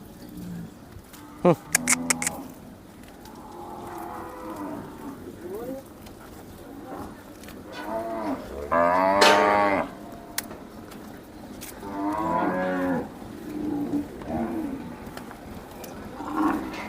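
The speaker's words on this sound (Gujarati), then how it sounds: "ચારો તરફ ગાયોનો જ અવાજ" Cows lowing in an enclosed shed at a gaushala of about 1,250 cows, with buffaloes too; several drawn-out moos rise and fall over a steady murmur, with a few sharp clanks and background voices.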